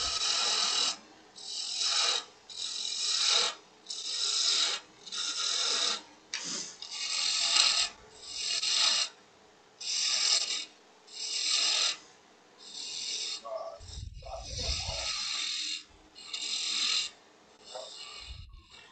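Repeated rasping bursts of wood being shaved on a spinning lathe while turning a goblet, roughly one per second, close and loud, with a short clunking pause midway.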